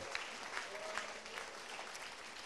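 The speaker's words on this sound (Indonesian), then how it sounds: "tepuk tangan dong" The studio crowd at a Metro TV stand-up comedy battle claps in a faint, distant patter that stays steady under a little background voice activity.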